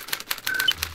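A special typewriter in the Back to the Future video game prints out a punch card, giving a run of quick, evenly spaced mechanical clacks with a faint electronic tone partway through.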